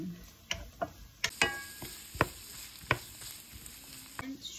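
Pansit with carrots and shrimp stirred in a pan: scattered sharp scrapes and clacks of a utensil at an uneven rhythm over a soft sizzle, close and fairly quiet.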